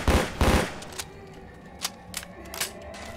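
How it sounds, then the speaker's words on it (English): Gunfire rings out during the Haunted Forest campaign of Left 4 Dead 2 on PC; two heavy, close shots open the clip, followed by a few scattered, lighter reports. "be careful where you're shooting"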